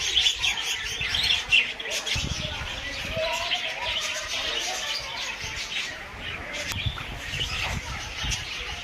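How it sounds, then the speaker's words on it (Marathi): Large birds at a scenic outdoor spot chirp and tweet repeatedly, with bright calls scattered throughout, moderately close, over a murmur of background voices and occasional rustling. "हे पक्षी बघा केवढे मोठे."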